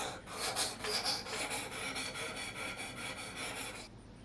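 A knife is drawn over the stone of a TSPROF Pioneer guided sharpening system in about a dozen quick, even rasping strokes, close and fairly quiet, ending in a short pause.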